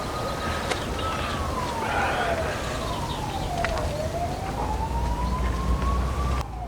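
A police siren wails in a slow rising and falling sweep, fairly distant and steady over a background murmur of noise.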